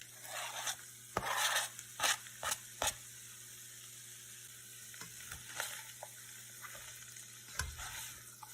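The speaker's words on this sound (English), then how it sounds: "And now we're gonna stir everything in, including our green onions." Fried rice with egg and green onions is stirred in a hot pan, giving a soft steady sizzle broken by repeated scraping strokes of the spatula, close and without talk.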